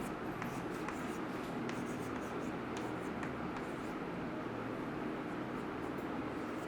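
Marker or chalk strokes scratching across a board during a chemistry lesson, faint and intermittent, set against a steady hiss of room noise.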